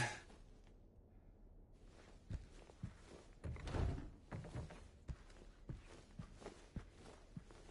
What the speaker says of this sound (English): Got to auto save right when that secret door opened